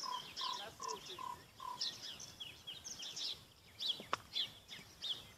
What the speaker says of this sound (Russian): Дайте послушать, как поют птицы.